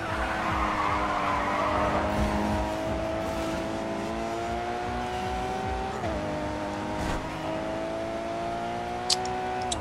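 Racing car in GRID 2 sliding wide through an open curve, a steady loud engine drone with a long tire squeal and skid as it drifts out, with a couple of sharp clicks near the end.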